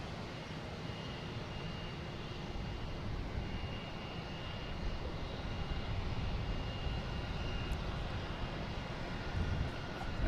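A United Airlines Boeing 737 MAX 9 taking off at Boston Logan, heard as a distant, steady jet roar that swells slightly in loudness over the clip, with no voices.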